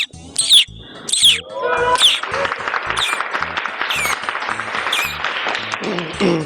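A person imitates a baby chick with a few high, squeaky chirps at a college-stage entertainment show, and loud crowd applause and cheering quickly swell up and carry on underneath.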